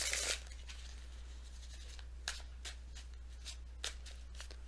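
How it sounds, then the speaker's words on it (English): Tarot cards being shuffled by hand at close range, a series of quick papery riffles and snaps separated by short pauses, fairly faint against a low steady hum. "One good shuffle."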